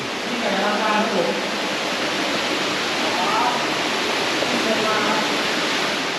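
A large waterfall roars inside Nang Aen cave in Laos, a loud, steady rush of falling water that fills the whole clip, with a faint voice barely showing beneath it.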